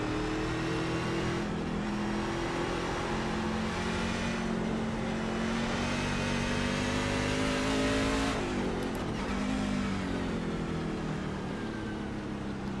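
Race truck engine in the iRacing video game, droning loudly and continuously as it downshifts and brakes, the pitch dipping and shifting partway through.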